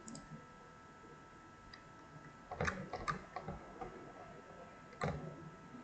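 Sparse, quiet keystrokes tap on a computer keyboard, a few short bursts of clicks separated by pauses.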